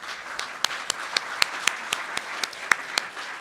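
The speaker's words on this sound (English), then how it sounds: "A round of applause for her." An audience at the CHOGM 2022 People's Forum in Rwanda applauds, a brief burst of scattered, fairly close hand claps with sharp individual slaps standing out over a softer crowd wash.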